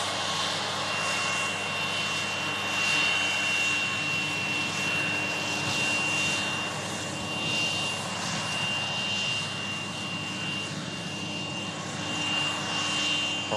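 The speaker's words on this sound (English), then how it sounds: "Bombardier sounding very nice" A Bombardier business jet taxiing at Manchester toward Signature Aviation, its engines giving a steady whining drone with a high tonal whistle, sustained and moderately near throughout.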